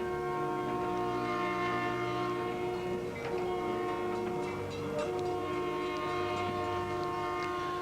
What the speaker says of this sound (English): The train is now together and has departed Ottawa on its journey to Mendota.